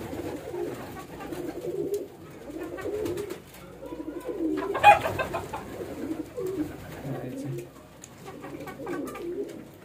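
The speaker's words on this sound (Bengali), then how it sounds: "এখানে কিছু কবুতর আছে আমার, এরা খাবার খাচ্ছে এখন।" Pigeons coo in soft, repeated low murmurs nearby, with light rustling and pecking sounds and a brief louder flutter midway.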